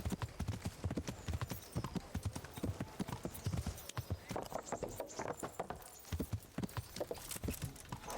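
Horse hooves in the video game Kingdom Come: Deliverance, a steady rhythmic clip-clop of a ridden horse moving at pace, close and prominent, with a brief whinny-like sound and faint game ambience.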